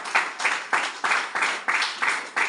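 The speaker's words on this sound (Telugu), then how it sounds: "అందరు గట్టిగా చప్పట్లు కొట్టండి." An audience claps in steady, rhythmic unison at a Telugu Christian sermon. About eight even bursts of applause sound in quick succession, close and moderately loud.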